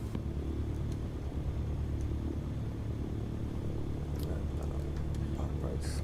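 An aircraft engine idles while warming up before taxiing out to the runway, producing a low, continuous rumbling drone at steady volume, with a few faint clicks and knocks over it.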